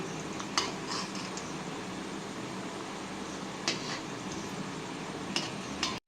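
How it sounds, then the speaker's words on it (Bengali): Flattened rice snacks fry in hot oil over a low-to-medium gas flame, a steady soft sizzle broken by a few light clinks of the utensil as the pieces are turned. "এক এক করে তেলের মধ্যে ছেড়ে দিচ্ছি গ্যাসের ফ্লেমটাকে লো টু মিডিয়ামে রেখে ভেজে নিচ্ছি আর এবার উল্টে পাল্টে দিচ্ছি"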